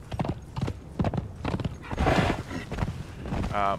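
A horse's hooves clop quickly and evenly in the video game Conan Exiles, the galloping near and loud, ending in a short whinny with no speech.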